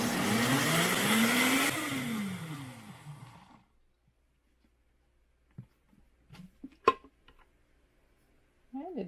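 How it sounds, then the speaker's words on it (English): A countertop blender whirs loudly, blending white grape juice with pectin for peach jam, its motor pitch climbing and dropping for about three seconds before cutting off, followed by quiet kitchen handling sounds. "And we are just going to blend that up."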